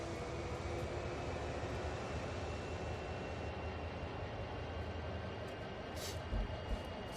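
Diesel locomotive in a train simulator game pulling away under steady power, a continuous broadband engine and wheel rumble with a faint high whine, loud and even throughout, brief knocks near the end.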